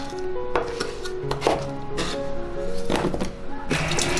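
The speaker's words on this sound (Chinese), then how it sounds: "再来刨一个土豆，再切成块" A knife cuts a peeled potato into chunks on a cutting board, giving several crisp, separate chopping knocks at an irregular, unhurried pace, close and fairly loud, with no talk.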